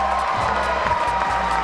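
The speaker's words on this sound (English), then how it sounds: "now I think everybody is clapping" Crowd at a 2004 karate event applauding and cheering, a dense steady wash of clapping with a few whoops rising over the noise, close and continuous throughout.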